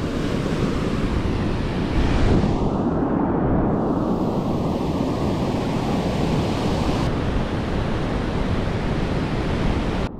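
Pacific Ocean surf on the beach at Costa Esmeralda, Panama, a continuous loud roar of breaking waves with heavy wind buffeting the microphone and no voices.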